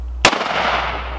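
A giant revolver fires a single close, very loud shot outdoors, a sharp blast followed by a long fading rumble against a steady low hum.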